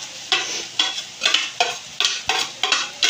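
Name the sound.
garlic and onion sizzling in a pan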